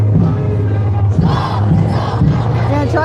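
A large crowd chants and shouts together in rhythmic bursts at a Free Iran rally in Toronto, loud and dense with a steady low hum underneath.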